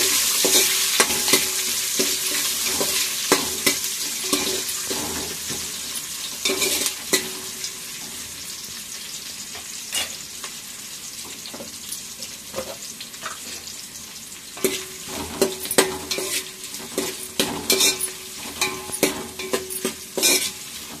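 A large chopped onion and three green chillies fry in a pan for bagara rice, a constant bright sizzle broken by repeated scraping strokes of a spoon, close and loud, without speech.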